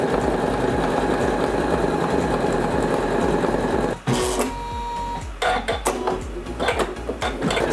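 A Janome Skyline S9 sewing machine embroiders with a loud, rapid, rhythmic mechanical clatter, then shifts to a busier stretch of knocks, whirs and clicks as the hoop moves, up close with no speech.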